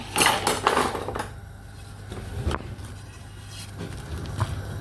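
Corned beef ingredients are mixed in a pot, with clattering, scraping knocks of a utensil against the pot, louder at first and then quieter and intermittent.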